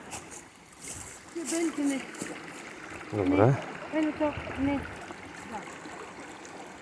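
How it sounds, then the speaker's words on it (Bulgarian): A mountain river at a crossing on the Leskata eco-trail near Semchinovo, Bulgaria, rushes as a steady broadband wash under several short spoken exchanges close to the microphone. "Ето тук ще минаваме реката."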